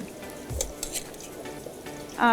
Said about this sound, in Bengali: এখন আমি এটা তেলে ছেড়ে দেবো ফ্রাই করব চার থেকে পাঁচ মিনিট ফ্রাই করবো